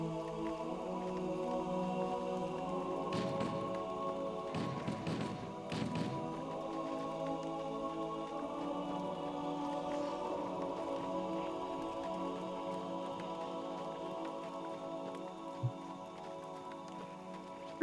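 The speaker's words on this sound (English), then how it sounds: "The rain is actually very impressive in this." Steady rain patters across the pre-Halo B20 Swamp map in the video game, a continuous hiss with a few thuds and taps, plus a brief louder rush of noise partway through.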